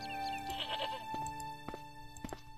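Goat bleats in the Broken Sword adventure game, a series of wavering, nasal cries in the first second or so, then sharper short bleats later over a steady background music drone.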